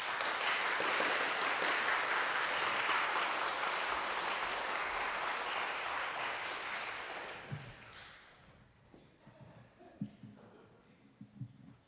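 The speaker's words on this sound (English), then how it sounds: "Let's have a round of applause." A congregation at a baccalaureate and bridging service claps in a dense, sustained round of applause that thins out after about seven seconds, leaving scattered claps and faint room noise.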